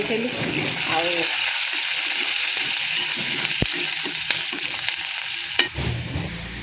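Onions frying in a pan with cumin and chilli for a dal tempering, a loud steady sizzle with stirring scrapes and a few sharp utensil clicks, and a voice talking faintly at the start.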